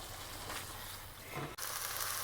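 Ground meat sautés and browns in a pan for a Bolognese sauce for lasagna, a close, continuous hissing sizzle that holds steady throughout with a brief stir-like break near the end and no talking.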